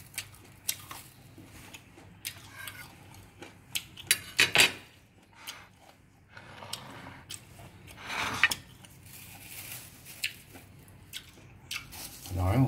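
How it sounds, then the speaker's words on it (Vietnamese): Someone bites into and chews crispy boiled pig ear, giving sharp crunches among clinks of cutlery and dishes, with a person speaking in between. "Thử một miếng này, miếng xem cái độ giòn nó như thế nào nhá"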